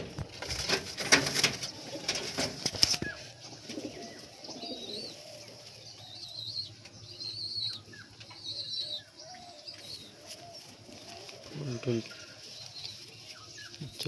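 Teddy pigeons, a young pair of male and female chicks, coo softly and intermittently among rustling and wing flutters in a loft, with faint chirps and a louder burst of activity near the start.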